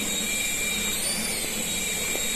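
A small toy helicopter's electric motor whines steadily and loudly at high throttle, a constant buzzing drone with no pauses.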